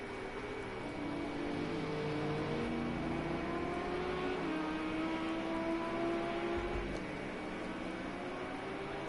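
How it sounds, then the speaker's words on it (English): GT3 race cars in a racing game at Daytona drone steadily through the whole stretch, several engines overlapping with rising and falling tonal whines as they rev and shift, moderately loud. "I don't know if you can hear the sound of these cars, but it's beautiful."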